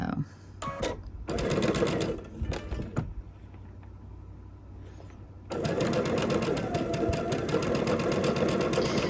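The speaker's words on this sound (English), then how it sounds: "I am going to go ahead and chain piece these again" A sewing machine chain piecing quilt pieces, running in bursts of fast stitching that stop and start, then a long continuous run, close and loud, with a person talking between and over the stitching.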